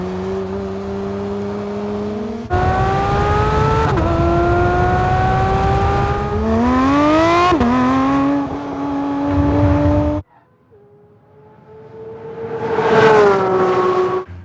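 A 2021 Porsche 911 GT3 of the 992 generation with a stainless steel exhaust revs hard and close, rising in repeated high-pitched surges, briefly dropping near silence before a final screaming climb and fall.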